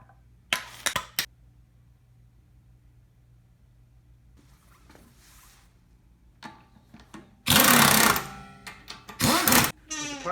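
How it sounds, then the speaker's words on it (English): Impact wrench tightening a wheel on a Honda Odyssey in a garage, a few short rattling bursts early and a louder sustained hammering run later, with clanks between and occasional voice. "we're just going to go in and see how tight we got it with the impact wrench before"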